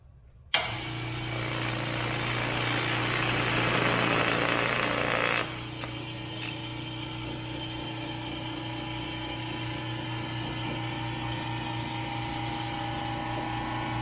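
EcoFlow Delta 2 portable power station switching on and running, a steady mechanical fan whir with a louder burst at the start that settles into a constant hum, close by.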